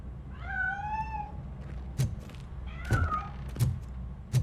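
A cat meows in Robocop Rogue City, one clear drawn-out meow near the start followed by a shorter second cry and a few soft thumps and bumps, close and otherwise quiet.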